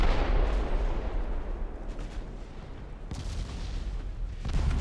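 Naval main battery guns fire in the warship game Ultimate Admiral Dreadnoughts, heavy rumbling booms over a constant low roar of battle, with several sharper blasts standing out.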